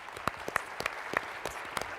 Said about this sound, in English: they all deserve a round of applause right now.